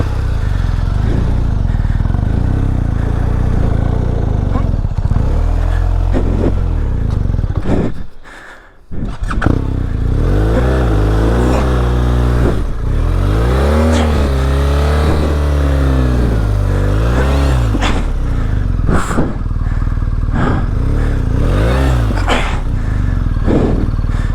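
A big motorcycle's engine revs and labors as it climbs over a rocky trail, loud and close, with rising and falling pitch sweeps, a brief lull near the middle, then steady throttle through rough ground.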